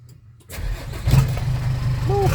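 A six-wheel dump truck's engine cranks and catches after half a second of quiet, then settles into a rough, steady diesel idle nearby, with a voice audible over it.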